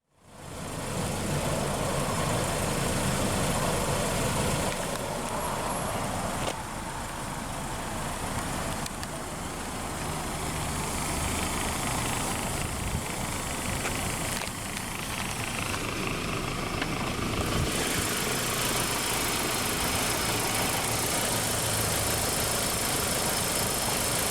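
A 1996 BMW Z3's 1.9-liter dual overhead cam, 16-valve, naturally aspirated inline-4 engine idles close by, a steady loud rumble running the whole time with slight shifts in tone and no voices.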